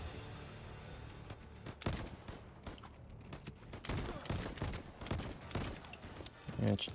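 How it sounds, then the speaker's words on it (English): Small, weak-sounding guns fire in the video game Voidtrain, a burst of quick irregular shots clustered together over background game noise. "these little guns are kind of weak sounding"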